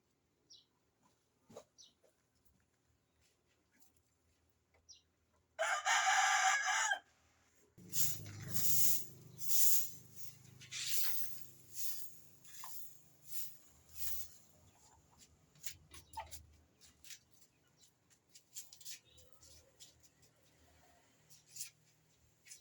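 Chickens cluck in scattered bursts, loud at first and then softer, with a harsh squawk near the start and long quiet gaps between calls.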